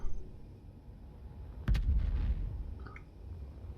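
A weapon turret fires in the Space Engineers video game, a sharp burst near the middle followed by a rumbling low tail that slowly fades, with a faint high blip after.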